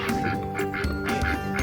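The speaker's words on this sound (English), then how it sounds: "the pigs didn't want to hang out with a duck that quacked all the time" A duck quacking repeatedly in a steady, loud series of nasal calls against a busy background, its companion a pig it stays close to.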